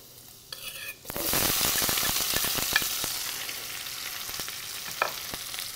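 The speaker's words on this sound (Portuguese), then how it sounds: "E em seguida eu já jogo a cebola." Onion hits a very hot pan with browning garlic and bursts into a loud, steady sizzle about a second in, with spoon stirring and scraping clicking through the frying and no voices.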